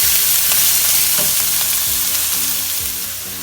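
Onions sizzle and crackle steadily in a hot pan while making coconut rice, with a few soft stirring scrapes and no talking.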